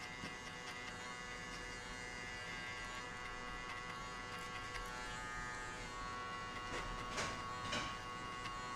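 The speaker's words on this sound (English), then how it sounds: "Next step, clipper level open, and just you jump 1 centimeter from here, but always flick your clipper out." Electric hair clippers buzzing steadily during a mid taper fade haircut, a close continuous motor hum with slight changes in tone as the blade moves through hair.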